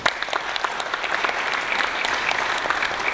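A steady wave of applause fills a hall during a formal government committee meeting on Indigenous historical justice, dense, even clapping from many hands continuing throughout.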